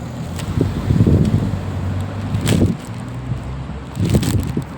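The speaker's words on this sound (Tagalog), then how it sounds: "Tingnan niyo po ang lakas ng hangin, grabe." Strong wind buffets the microphone in heavy, low rumbling gusts that rise and fall, easing briefly before surging again.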